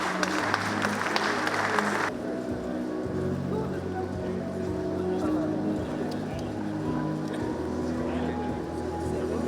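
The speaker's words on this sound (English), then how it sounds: "Can you please clap for the excellencies?" Audience at the Mission 300 Africa Energy Summit in Tanzania applauding visiting dignitaries, a brief burst of clapping that stops after about two seconds, followed by a low rumbling hum and background murmur.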